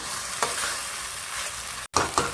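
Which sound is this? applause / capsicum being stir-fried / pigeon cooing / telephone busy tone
capsicum being stir-fried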